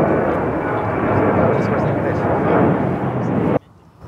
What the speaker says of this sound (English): I think that plane has wandered off the taxiway.